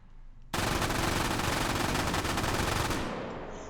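An MG42 machine gun in the H3VR game fires one sustained, loud burst of rapid full-auto shots lasting about two and a half seconds, then the echo trails off.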